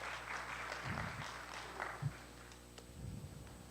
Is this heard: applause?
yes